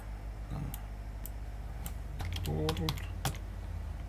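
Keys clatter on a computer keyboard as text is entered into a Python Tkinter program: quiet, scattered clicks in short bursts over a low steady hum.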